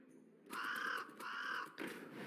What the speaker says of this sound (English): Squawk, squawk!